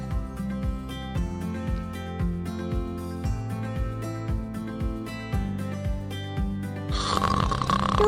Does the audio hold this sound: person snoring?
yes